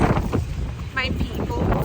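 Gusty wind buffets the microphone with low rumbling noise, while a voice talks briefly over it, outdoors downtown at the Regina Day event.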